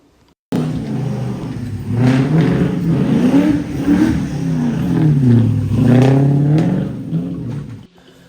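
A 1987 Chevrolet C10 truck swapped to a 5.3 V8 with a truck Norris cam revs close up, its lumpy idle rising and falling in several throttle blips before cutting off.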